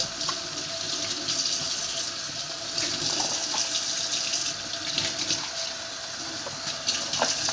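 Dishes being washed by hand, dipped, wrung and rinsed in water, with steady running and splashing water close by, punctuated by small clinks and sloshes, no talking.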